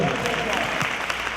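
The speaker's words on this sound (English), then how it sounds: "Give him a hand clap." An audience at a district dialogue meeting claps to welcome a commissioner to the front, a brief wash of applause at steady, moderate level with some voices mixed in.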